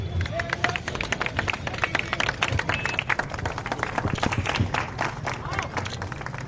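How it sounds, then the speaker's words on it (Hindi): Applause from a crowd welcoming guests at a traffic awareness rally, a dense burst of many hands clapping continuously and fairly close, with murmuring voices beneath. "वीरभूमि से ध्वनि करतल की बजती रहे।"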